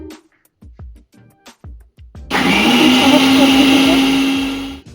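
Several soft knocks come first, then an electric grinder roars to life and runs loud and steady for over two seconds, blending ginger paste with green chilies before it stops.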